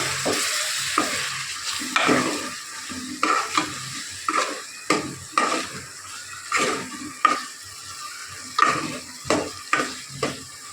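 A spoon stirs bitter gourd curry in a pan after a little water and turmeric go in, scraping in a steady rhythm of distinct strokes over a soft sizzle, close and fairly loud.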